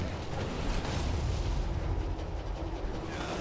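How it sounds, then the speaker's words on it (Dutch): In Far Cry Primal, a meteor arrow explosion sets off a fire that roars as a dense, continuous rumble of crackling flames and debris, loud and close throughout with no voices. "Die geven een gekke explosie of zo."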